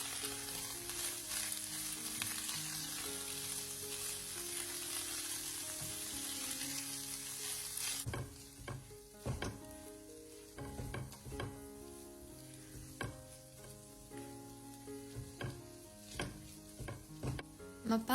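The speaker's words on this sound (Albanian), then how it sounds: "Kavardisi mishin bashkë me qepën derisa qepat të ndryshojnë ngjyrë" Ground meat and chopped onion sauté in olive oil in a pan, a steady loud sizzle that later breaks into irregular scraping and stirring clatter, with no voices.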